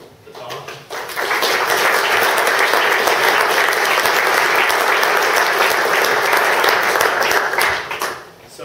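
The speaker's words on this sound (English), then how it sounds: "guys have already given the track a great round of applause" A conference audience claps after a talk on distributed databases, a steady, dense wash of applause that swells quickly, holds for several seconds, then tapers off.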